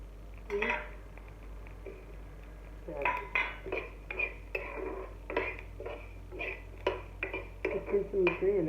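A metal spoon scrapes and clinks against a pan while garlic and curry leaves are stirred, giving irregular bursts of knocks and scrapes over a low steady hum, close and fairly quiet.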